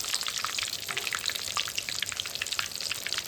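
Pomfret fish bhajiya frying in hot oil, a steady dense sizzle with crackling pops running continuously at close range, no talking over it.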